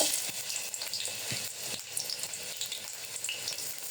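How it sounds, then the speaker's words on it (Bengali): Onion frying in a pan for a millet rice dish, a steady close sizzle with small crackles and faint clinks of stirring throughout. "প্রথমে পেঁয়াজটা ভেজে নিব"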